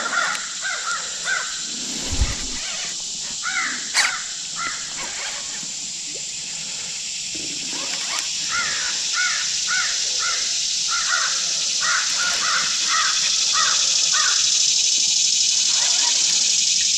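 Repeated harsh cawing calls from crows in bursts over a steady hiss of background noise at a small creek, fairly distant, with a brief low thump early on.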